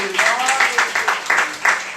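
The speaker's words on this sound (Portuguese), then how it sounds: "Você pode aplaudir ao Senhor com o seu melhor?" A church congregation at Igreja de Nova Vida do Catete bursts into sustained applause for the Lord, thick and close, while a voice carries on over the clapping.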